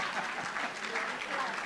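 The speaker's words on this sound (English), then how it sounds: "Kindly, can we clap for them?" Audience applause for a panel of speakers at a summit session, a steady, dense wash of clapping at moderate level throughout, with no talk over it.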